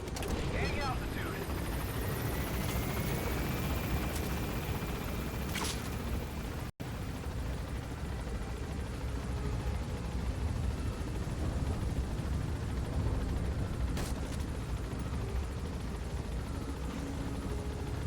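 Helicopter gaining altitude in the video game Metal Gear Solid V, a dense continuous rotor and engine roar that stays loud and steady, with a brief dropout midway and a voice speaking faintly beneath it.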